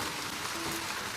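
Rain falling outdoors during a protest in Charleston, heard as a brief, steady hiss of rainfall.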